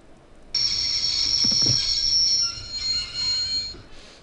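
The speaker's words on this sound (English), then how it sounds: "I'd always wanted to stop a train, and now was my chance." A train brakes to a stop in the Broken Sword adventure game with a piercing, high metallic wheel squeal. It cuts in abruptly after a brief quiet moment and holds steady for several seconds before fading and flickering.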